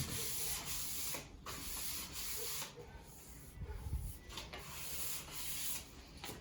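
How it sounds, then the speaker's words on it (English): Hand sanding of lime-washed wooden furniture, a steady close rasping rub with brief pauses between strokes, fairly faint and alone. "And as you do it, you'll need to sand less and less."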